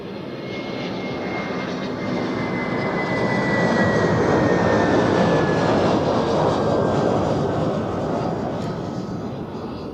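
An Iberia airliner passing at Zurich Airport, its engines a steady, loud broadband roar that swells toward the middle and holds, with a faint whine running through it.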